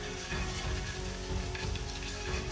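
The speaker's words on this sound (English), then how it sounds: "Deglaze and scrub off any bits that may have stuck to the pan." Liquid hissing and sizzling in a hot pan for a Chaliapin steak rice bowl, with the steady crackle broken by scraping and stirring as stuck bits are scrubbed off the bottom, close and continuous.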